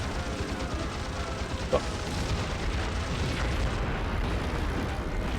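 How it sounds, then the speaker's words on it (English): Bombs dropped by Betty bombers burst in a Pacific naval battle in the PS2 game Heroes of the Pacific, a dense, continuous rumbling roar of explosions with one sharper pop standing out. "The Bettys have dropped their bombs."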